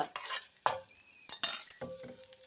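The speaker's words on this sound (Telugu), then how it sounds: "ఇప్పుడు పప్పులో కలిపేస్తున్నాను" Fried green chillies stirred into lemon lentil dal, a few sharp clinks of a utensil against the pot spaced irregularly between soft wet stirring, quiet and close.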